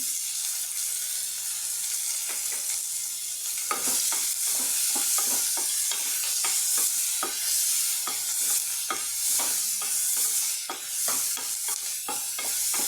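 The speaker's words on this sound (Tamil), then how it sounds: "வெங்காயம் இன்னமும் குயிக்காக வதங்குறதுக்கு கொஞ்சம் கல்லுப்பு சேர்த்துக்கலாம் சார்" Onions fry in hot oil with rock salt for a dried-fish curry, a continuous close sizzle punctuated by frequent sharp scrapes and taps of a spoon stirring the pan, with no talking.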